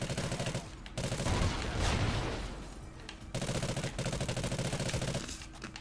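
Automatic gunfire in Call of Duty Ghosts on PC, loud rapid bursts separated by brief pauses and a dull blast between them, with no talk.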